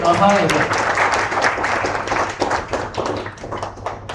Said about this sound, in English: Guys, a big round of applause for him.